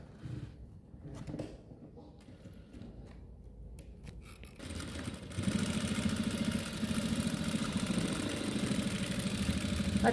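A sewing machine stitches elastic onto a palazzo, with quiet handling and clicks at first, then a steady, close, rapid mechanical whir that runs continuously to the end.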